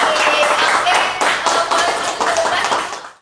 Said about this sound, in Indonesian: kita akan berikan tepuk tangan yang paling meriah untuk Dewi